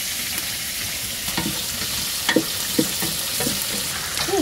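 Garlic sautéing in a pan for sinigang, a steady sizzle of frying with a few scrapes and stirring knocks against the pan, close and moderately loud, with no one speaking.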